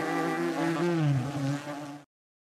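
Buzzing bees in the video game Hungry Lamu, a steady droning hum with wavering pitch that swells and dips for about two seconds, then cuts off abruptly into silence.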